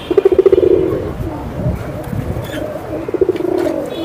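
A newly adult pigeon at a pigeon sale coos in rapid pulsing bursts at the start and again near the end, loud and close, with a low rumbling murmur and background talk between.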